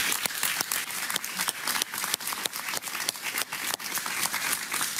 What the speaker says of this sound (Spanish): Un aplauso para don Enrique Salas Romer.